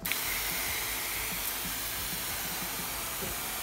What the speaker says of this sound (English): Just give it a quick spritz.